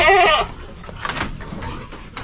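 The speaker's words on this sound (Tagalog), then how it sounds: "Yan po ang ating kambing." A goat bleats loudly and close by at the start, a brief wavering cry, followed by quieter rustling and faint background noise.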